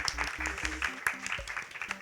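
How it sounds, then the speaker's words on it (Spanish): Audience applause at the close of a molecular magic club presentation, a short burst of scattered claps with a low musical tone underneath. "un aplauso, por favor"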